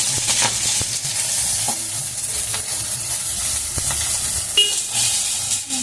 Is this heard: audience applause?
no